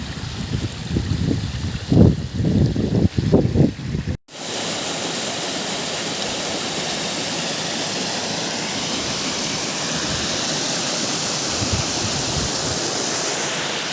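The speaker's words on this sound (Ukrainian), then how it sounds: "Подивіться, скільки багато різних струмочків поновлюють воду до цієї річки." Many small mountain streams pour down a hillside into the Uzh river near Velykyi Bereznyi. A few seconds of low bumps and wind at the start give way to a steady, loud, broadband rush of flowing water that continues unbroken.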